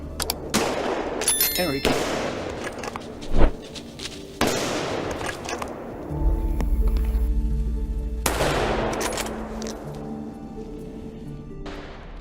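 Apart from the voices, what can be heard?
gunshots at wild boar hunt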